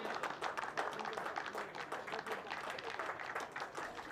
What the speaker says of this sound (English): listen to this reception that he receives from his team, and he applauds himself as well